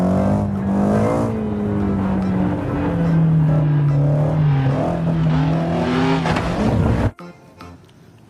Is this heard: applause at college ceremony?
no